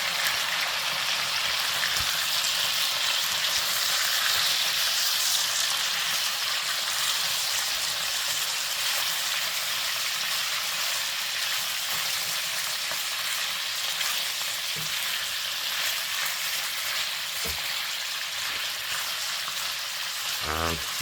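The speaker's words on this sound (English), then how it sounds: "And we can let that have a little sizzle" Continuous loud sizzling of duck and lamb meat frying in a pan with its juices, with a few faint clinks and taps of utensils.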